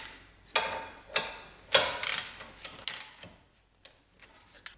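A ratchet snugs up the front brake caliper bolts on a Dodge Grand Caravan, giving several sharp, close clicking bursts with short pauses that fade to a few light ticks.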